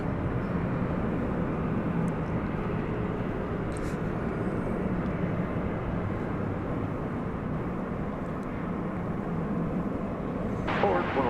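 A jet airplane takes off at night from runway 18 left at DFW Airport, a broad, steady engine roar heard from a distance that holds constant throughout.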